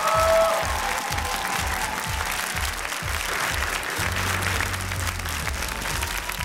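Audience on an Armenian X-Factor talent show applauding a contestant, sustained loud clapping from a crowd that carries across the whole stretch at even strength, with a rhythmic musical thump pulsing underneath.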